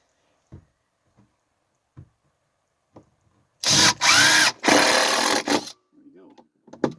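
Power drill driving deck screws into timber for a shed, two or three long whirring bursts in quick succession close by, with scattered soft knocks and handling noises before and after.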